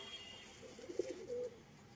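A single soft coo from a Rajshahi pigeon, faint and brief, rises out of a quiet background.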